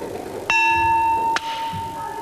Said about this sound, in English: With a loud noise on the chime bar.